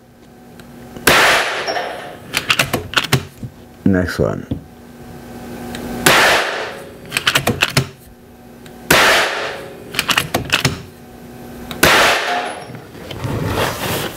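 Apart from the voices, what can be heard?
gunshots hitting exploding target pellets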